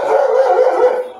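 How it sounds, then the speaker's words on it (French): A dog gives a loud, drawn-out howling bark, a single sustained vocal cry lasting about a second. "Même le chien est obligé d'aboyer parce que le chien ne supporte pas."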